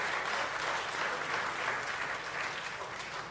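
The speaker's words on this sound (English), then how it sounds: "Please give them a big round of applause." A quiz audience at a school quiz grand final applauds the runners-up with a dense, even wash of clapping that holds steady throughout, somewhat distant and without talk.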